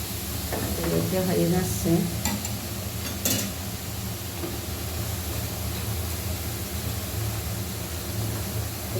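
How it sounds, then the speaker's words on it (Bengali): Fruit juice boiling in a pot, a steady broadband hiss and bubbling sizzle running throughout, with a voice talking briefly over it near the start and occasional stirring clinks. "এটা জুসটা আমি আগে সিদ্ধ করছি"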